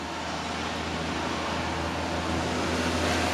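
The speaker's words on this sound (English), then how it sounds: "Excuse the car noises." Steady road traffic noise from cars passing near an outdoor shed lot, a continuous low rumble and hiss that swells slightly toward the end, with no talking.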